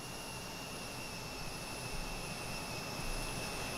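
Steady jet-engine drone from an airplane in the Aerofly 8 flight simulator game, a constant, even roar with high whining tones sustained throughout, no talking.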